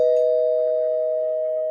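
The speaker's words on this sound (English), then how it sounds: "The doorbell is ringing" A doorbell sounds as one steady, loud electronic tone that holds for nearly two seconds and fades only slightly, with nothing else heard.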